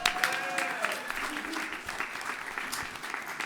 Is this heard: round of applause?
yes